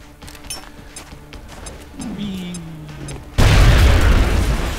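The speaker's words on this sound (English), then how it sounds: "Now toss your grenade at the enemy in front of you." Grenade blast in the X-Com video game: after quiet game ambience and a short falling tone, a loud, sudden booming explosion bursts in and rumbles on to the end.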